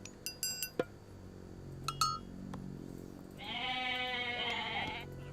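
Goat-like bleating from Age of Mythology rises and holds for a couple of seconds, preceded by several sharp clinks and chimes, with a synthetic, game-like quality.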